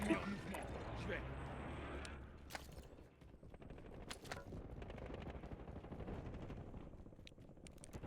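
Gunshots from a new revolver in a Call of Duty video game, several sharp reports mixed with game action and effects, with someone talking over much of it.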